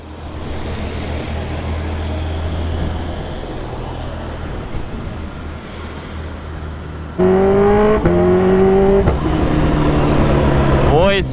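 A Kawasaki Ninja H2R sets off on a highway, first a low rumbling idle and road noise, then a sudden loud surge as the engine revs hard and climbs through rising, whining acceleration up close.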